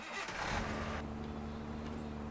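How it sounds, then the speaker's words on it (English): An excavator's engine in Demolish & Build Company, starting with a brief rising roar before settling into a steady low idle hum, close and continuous. "so now we'll get in the excavator."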